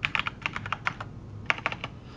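Fingers typing on a computer keyboard in quick, uneven bursts of close keystrokes, broken by a short pause before another run of taps, with no talking.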